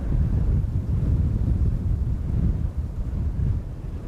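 Steady, loud wind buffeting an outdoor microphone at Amsterdam Schiphol Airport on a crosswindy day, a continuous low roar that dips briefly near the end, with no talking.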